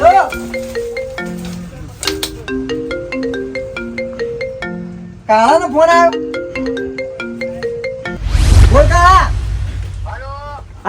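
A mobile phone ringtone plays a repeating electronic melody, loud and close, with brief pauses between phrases; people talk over it toward the end.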